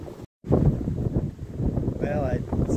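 Wind gusting across an open riverside bluff along the Maurice River, a steady broadband rush that swells and holds close to the microphone, with a brief dropout near the start.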